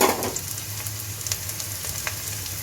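Washed, drained red lentils hit a hot pan and sizzle in a soft, continuous hiss, with a faint low hum and a few small crackles underneath, no voices.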